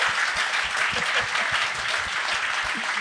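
Dense, steady studio audience applause fills the room, many hands clapping at once at an even level for the whole stretch, close and sustained, with a faint voice buried beneath it.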